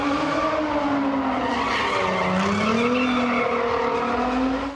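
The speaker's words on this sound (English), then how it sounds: "the scene of an illegal vehicle rally involving dozens of cars and about 100 people" Cars skidding at an illegal street vehicle rally in Wethersfield, Connecticut, with a loud sustained tire squeal that wavers in pitch over roaring engines, close and continuous throughout.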